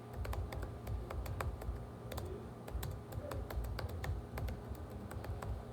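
Typing on a computer keyboard, a quick irregular run of crisp clicking keystrokes over a low steady background hum, close and clear with no speech.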